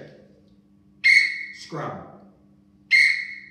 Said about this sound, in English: the worst case scenario is a monotonic whistle like this